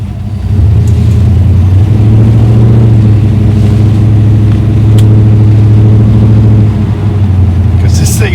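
Skip White 383 small-block Chevy muscle truck driving with a loud exhaust, a deep steady rumbling drone that holds for several seconds before easing slightly, close and heavy.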